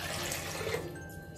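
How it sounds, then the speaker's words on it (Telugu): Water is poured from a cup onto washed, soaking chana dal in a bowl, a brief soft gushing splash that tapers off quickly. "మనం తీసుకున్న కప్పుతో ఒక రెండు కప్పుల నీళ్లు వేయాలి"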